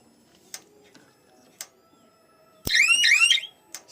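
A solar electric fence energizer for farm fencing gives a loud chirping electronic alarm lasting about a second, close by, between faint sharp ticking pulses from the unit.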